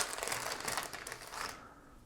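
A Whirlpool plastic bag crinkles as small parts, including a star post, are dropped in during a White Water pinball playfield teardown; a close, dense rustle lasts about a second and a half, then stops.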